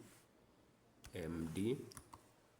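A few faint, quick key taps on a computer keyboard as CMD is typed, with a person speaking over the clicks.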